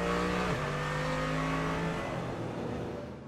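A Porsche race car blasts back onto the Nürburgring 24-hour circuit, its engine note dropping and shifting through gears as it passes, loud and close at first, then gradually fading away.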